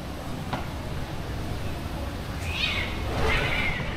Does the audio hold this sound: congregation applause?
no